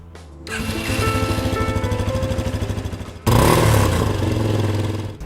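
An air-cooled single-cylinder Yamaha XT250 motorcycle engine chugs with a rapid, lumpy idle, then revs sharply and keeps thumping loudly up close.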